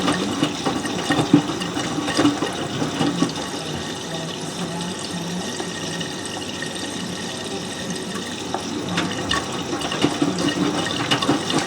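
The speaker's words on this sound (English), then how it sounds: "So we can see how much the water level goes up to." A Miele W562 washing machine fills with water during a 40°C automatic cycle with pre-wash, a steady close rushing flow with faint splashing that runs continuously.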